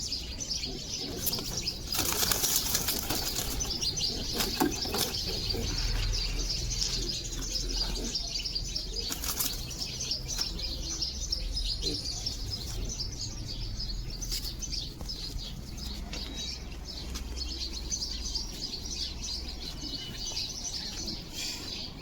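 Pigeons flapping their wings in bursts amid steady cooing and chirps, with a constant bird-filled background.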